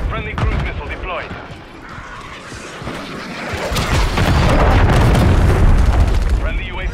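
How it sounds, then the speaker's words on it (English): Cruise missile strikes in Call of Duty: Modern Warfare III multiplayer, rendered as a rolling barrage of heavy booms and blasts that swell into a loud, sustained roar of explosions, with a voice callout heard early on. "Friendly cruise missile deployed."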